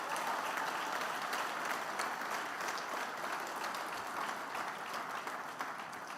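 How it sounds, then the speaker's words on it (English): Steady applause from a conference audience at a Nigerian event, sustained even clapping that fills the room at moderate distance with no voices over it. "please kindly give her another round of applause"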